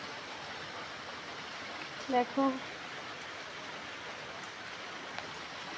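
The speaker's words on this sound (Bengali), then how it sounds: "বৃষ্টি হচ্ছে।" Steady rain falling outdoors makes a continuous, even hiss throughout, with a brief voice speaking softly around the middle.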